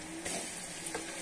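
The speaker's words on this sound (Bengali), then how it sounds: "এখন আমরা এটাকে ভালো করে কষিয়ে নেব।" Chili and ginger paste sizzles in a hot pan, a steady close frying hiss with a couple of brief louder spatters as it is stirred.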